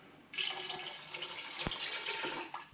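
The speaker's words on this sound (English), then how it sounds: "Also 1 litre of water." Cold water, one litre, runs steadily into a pot of fish chowder in a home kitchen, a continuous close splashing pour that starts abruptly and is heard with no talking.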